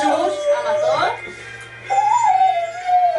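A dog howls and whines in long wavering tones at a loud party gathering, with people shouting and talking over it.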